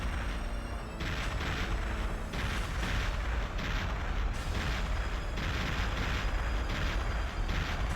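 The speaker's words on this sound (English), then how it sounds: "We're forced to watch this explosion for some reason." A long, loud explosion in a Perfect Dark cutscene, a sustained roaring rumble with crackling debris and a sharp burst about a second in, dense and continuous throughout.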